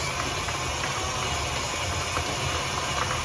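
Stand mixer fitted with a paddle attachment beating cheesecake batter, giving a steady, continuous motor whir with a faint rhythmic churning underneath, loud and close throughout.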